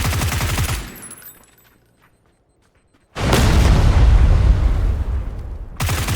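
Loud bursts of PUBG gunfire, a rapid volley at the start, then a short lull before a sustained booming barrage of shots and blasts.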